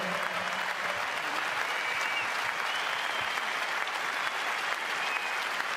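A crowd at a basketball jersey retirement ceremony for Damian Martin giving steady, dense applause, a continuous roar of many hands clapping at even loudness throughout.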